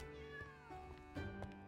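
Cat meowing in the video game Travellers Rest, a few short, faint meows over soft background music, with no talk.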